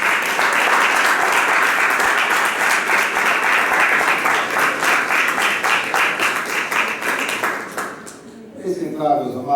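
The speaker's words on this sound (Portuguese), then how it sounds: "Então nós vamos recebê-lo hoje com uma salva de palmas ao Senhor Jesus." A congregation at a Brazilian pastors' council breakfast gives a loud, sustained round of applause. It carries on for several seconds before fading out as a voice begins speaking.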